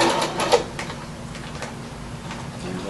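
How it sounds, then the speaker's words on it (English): A sewing machine running a lock stitch on a bushcraft dog bed, quick mechanical ticking and clicking in short bursts, strongest near the start, then a softer steady whir, close by with no talking. "do a lock stitch"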